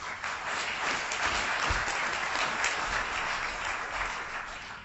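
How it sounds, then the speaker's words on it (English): An audience at a law school forum gives a dean a warm round of applause: steady, even clapping from a sizeable crowd, sustained for several seconds at moderate volume with no voices over it. "I hope that you'll please join me in giving Dean Brennan a warm round of applause."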